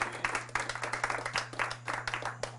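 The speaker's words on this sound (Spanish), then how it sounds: "Fuertes aplausos a nuestra Madre Santa, la Virgen María." Scattered hand claps from a small group at a religious retreat, uneven and moderately close, with a steady low hum underneath.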